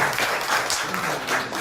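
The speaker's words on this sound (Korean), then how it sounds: "큰 박수 부탁드립니다." Audience applause in a classroom presentation, a steady dense wash of many hands clapping at moderate loudness throughout, with no talking over it.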